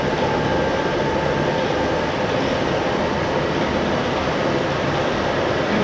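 A tree mill runs steadily, giving off a dense, even mechanical roar that stays at one loud level the whole time, with a faint whine running through it and no voices.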